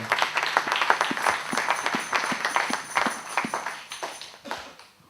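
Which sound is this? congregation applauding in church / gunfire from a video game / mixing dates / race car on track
congregation applauding in church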